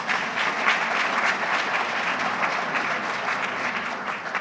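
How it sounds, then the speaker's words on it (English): Audience applause from an evening crowd at a Martin Luther King State Commission kickoff gathering, a dense, sustained wash of clapping at even loudness throughout, fairly close and full. "Give yourselves applause coming out tonight."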